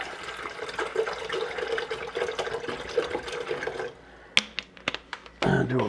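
Water pours steadily into a container for about four seconds to measure out a quart for coffee, a close splashing gurgle that stops, followed by a few knocks, clatters and a short resumed splash.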